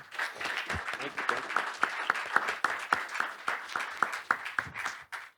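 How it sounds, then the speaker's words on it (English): Sparse applause at an energy conference after a panel: a small group's distinct, rhythmic claps ringing out one by one, fairly close, with faint talk underneath. "a round of applause, please"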